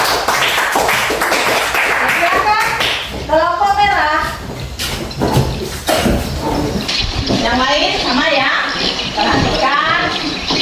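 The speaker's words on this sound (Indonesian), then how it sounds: "tepuk tangan untuk kelompok bisa" Classroom applause for a student group after a presentation: scattered sharp hand claps, strongest early on, mixed with voices talking and calling out over them.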